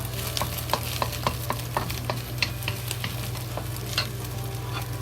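Eggs and scallions frying in a pan while being stirred: a steady sizzle under repeated sharp scrapes and clacks of a utensil, close and fairly loud, with a low stove hum beneath.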